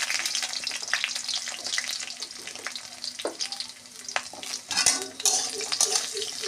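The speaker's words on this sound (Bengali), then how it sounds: "আলুগুলো একটু ভাজা ভাজা হয়ে আসবে" Potatoes fry and sizzle in hot oil in a pan while being stirred, a steady bright crackle with scraping stir strokes and a few clinks of utensil against metal, no talking.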